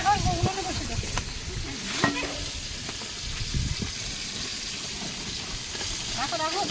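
Green chilies fry in a pan with a close, steady sizzle and hiss, stirred with a few scraping clinks. A voice speaks briefly over the cooking.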